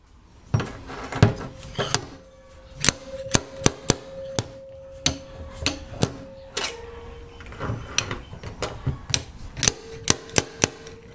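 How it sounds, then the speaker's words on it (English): Stud welder pegs on a car body panel being pulled to work out a dent, giving a run of sharp metallic clicks and snaps, close and irregular, spread over about eleven seconds with no talking. "Now I'm going to pull it and get that dent out."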